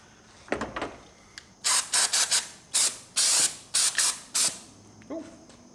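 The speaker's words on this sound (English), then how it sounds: "Instant parts cleaner and degreaser" Instant parts cleaner and degreaser sprays from an aerosol can during a Miata timing belt job, in a series of about eight sharp hissing bursts, some short and some longer, loud and close.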